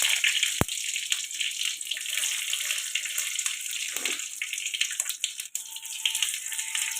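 Mustard seeds splutter in hot oil with a continuous bright hiss broken by an occasional sharp pop, steady and fairly close, with no voices.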